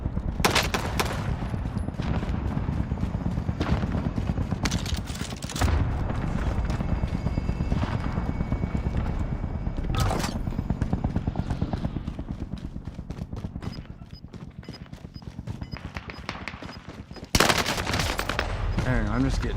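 Rapid automatic gunfire in the video game Call of Duty: Warzone, dense continuous bursts of close shots running throughout with a few louder impacts, set in a busy game mix.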